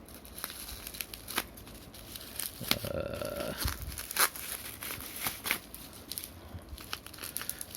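Close crinkling and tearing of a Xiaomi Redmi Note 9S phone box's packaging, with a short scraping blade cut in the middle and scattered crackles around it.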